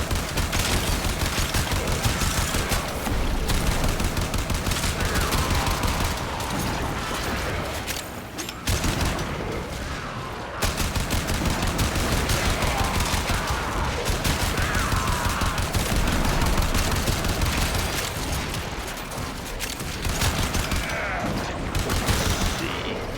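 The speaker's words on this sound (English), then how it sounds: "there's not really much to talk about with the Argonac. Unfortunately, it is just a standard assault rifle" An Argonac assault rifle in a video game fires in long, loud sustained bursts of rapid shots, nearly continuous with a few short pauses, while someone talks quietly underneath.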